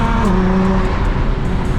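A Nissan GT-R's engine and loud exhaust drone steadily from inside the car on a canyon drive, a dense close rumble with shifting engine tones and no talk.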